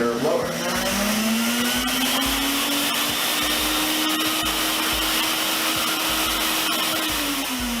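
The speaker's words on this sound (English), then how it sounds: "when you turn on, it is now a inflator blower" A SIRENA vacuum system running in inflator blower mode makes a loud, steady motor roar with a whine that climbs as it spins up, holds, then dips slightly near the end. A voice talks faintly underneath.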